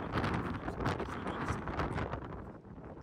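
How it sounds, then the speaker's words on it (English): Steady wind buffeting the microphone, a continuous loud rumbling roar with gusty swells that eases slightly near the end. "It's very windy, so."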